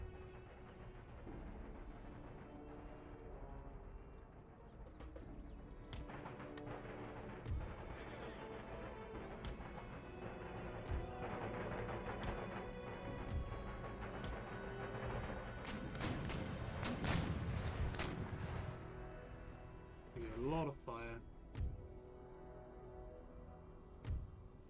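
Artillery fire in the video game Empire Total War, aimed at a cavalry unit: a dense, steady battle rumble with clusters of booms and crashing impacts building near the end, all under a droning background.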